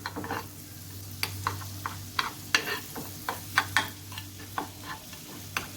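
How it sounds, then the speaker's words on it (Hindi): Half a tablespoon of butter melting with crushed chilies in a pan, a gentle sizzle broken by regular clicking taps of a spoon against the pan, close with a low hum beneath. "यहाँ पर मैंने लिया है 1/2 टेबल स्पून बटर का और इसमें मैं ये थोड़ी सी क्रश चिलीज ये ऐड करूँगी। इसको थोड़ा मेल्ट करूँगी।"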